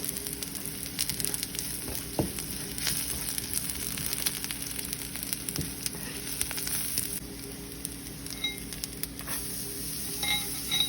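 White cumin seeds sizzling in hot oil as a beetroot curry is started, a steady close frying hiss with occasional light stirring scrapes and no talk.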